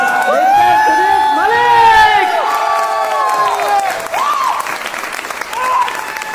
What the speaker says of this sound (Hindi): मैं चाहूंगा इस आदमी के लिए सबसे ज्यादा ताकत से तालियां बजाएं आप लोग।